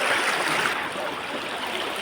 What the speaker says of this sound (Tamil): பார்த்துங்க, நிறைய தண்ணிங்க.